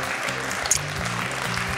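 A game show studio audience applauds a correct answer, a steady moderate patter of clapping heard briefly with a faint voice beneath.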